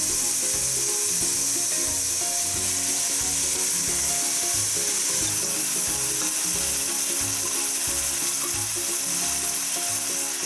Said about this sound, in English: That nice sizzling sound.